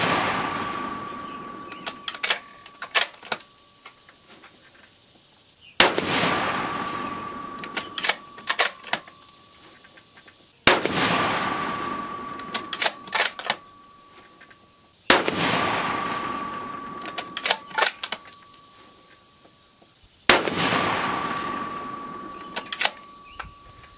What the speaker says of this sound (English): It's definitely noisier without the suppressor.